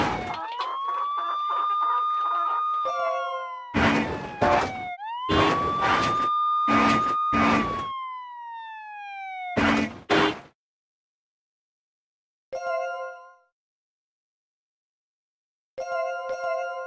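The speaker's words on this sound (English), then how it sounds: "There's so many ambulances." Ambulance sirens in the Burnout racing video game wail loudly in repeated rising and falling sweeps, broken by abrupt cuts and silent gaps, with short chiming tones near the end.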